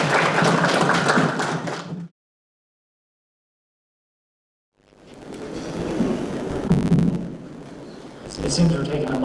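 Round of applause from the audience at an engineering conference presentation, a loud burst of clapping that cuts to silence, then returns as scattered claps and crowd noise with a voice speaking.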